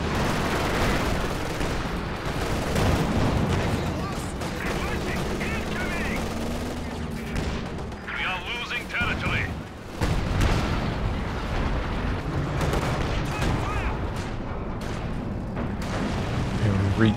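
Heavy mortar fire booms through a Company of Heroes 2 2v2 battle, with repeated loud blasts layered over continuous machine-gun bursts and dense battlefield din.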